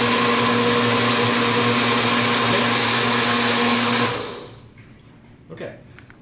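A blender whirs loudly and steadily on the mix setting while blending fresh salsa, then winds down and stops, with a few soft clicks and faint voices after.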